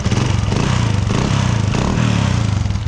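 A Honda Wave 125 motorcycle with a noisy engine runs close by, its rapid, even pulsing idle chugging steadily throughout the short stretch.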